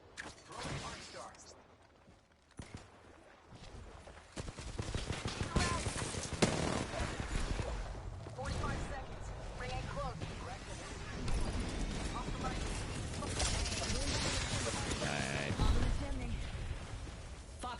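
Saturation bombing in a Titanfall-style game: dense, rolling bursts of explosions and gunfire pile up across the whole stretch, loud and chaotic, with game noise mixed underneath.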